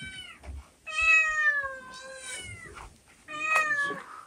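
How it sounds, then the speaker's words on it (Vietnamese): A cat meows repeatedly, drawn by the smell of cooked meat: three or four drawn-out, wavering cries, close and clear, with short pauses between them and a few faint knocks underneath. "Mèo thì người thấy là mùi thịt thơm xong lại kêu đó."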